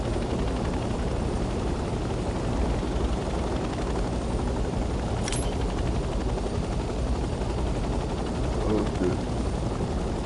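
A helicopter flies in the Vietnam war video game Hell Let Loose, its steady rotor and engine roar filling the clip. A brief high sweep is heard partway through, and a voice speaks one short word.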